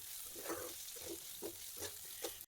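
Chopped onion with curry leaves, green chilli, ginger and garlic sizzling in a pan, a soft steady hiss broken by rhythmic scrapes of a stirring spoon every half second or so, close and fairly quiet, with no voices.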